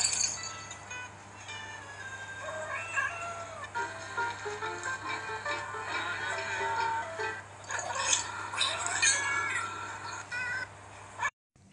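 A cat with flu meows repeatedly in a strained, raspy voice, with several drawn-out cries close by and a steady low hum underneath.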